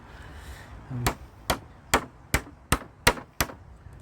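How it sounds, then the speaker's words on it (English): Sharp metallic hammer taps strike a nail in a steady rhythm to knock out a pallet hinge, seven blows about half a second apart, close and loud with no talking. "basically all we're doing is we're tapping the hinge out with the nail."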